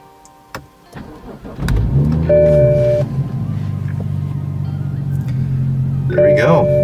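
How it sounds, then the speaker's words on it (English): A push-button start on a BMW F30 sedan: after a few faint clicks and chimes, the engine cranks and catches with a loud rising whir, then settles into a steady, close idle punctuated by dash chimes, with no talking. "I'll go ahead and start the car to make sure."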